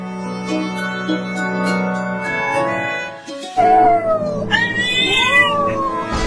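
A cat meows loudly and insistently at close range, giving drawn-out, wailing cries that rise and bend in pitch, one after another with only a brief pause between them.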